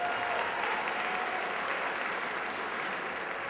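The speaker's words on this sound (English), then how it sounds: "A round of applause for David." A crowd claps steadily in sustained applause, a dense even patter heard from a moderate distance.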